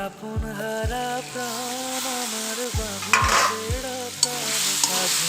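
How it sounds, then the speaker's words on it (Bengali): Mushrooms, peas and boiled potatoes are stir-fried with spices in a pan, giving a steady sizzle with a few sharp scraping stirs and clinks layered over a constant tonal hum. "এখন এগুলো ভালো করে কষিয়ে নিব"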